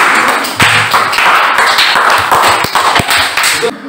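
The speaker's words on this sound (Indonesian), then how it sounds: "Tepuk tangan dulu untuk Pak Sori." Students in a classroom ethics lesson clap their hands, loud sharp claps in an uneven burst, with voices speaking around them.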